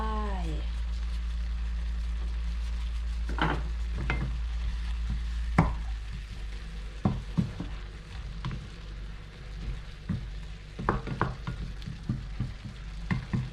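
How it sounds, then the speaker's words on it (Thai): Garlic stir-fried in a pan for a pork with oyster sauce and mushroom dish, a faint steady sizzle under repeated sharp scrapes and knocks of a spatula. "แล้วเอากระเทียมลงไป"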